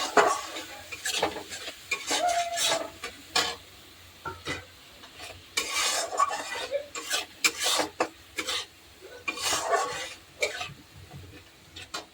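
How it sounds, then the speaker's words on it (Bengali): Cabbage and potato frying with turmeric, chili, cumin, coriander, salt and ginger paste, stirred in a pan with bursts of scraping and sizzling between quieter pauses, close by. "আমার এদিকে বাঁধাকপি যেন আলুটা ভাজা হয়ে গেছে।"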